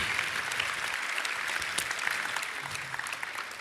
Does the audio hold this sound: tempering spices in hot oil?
no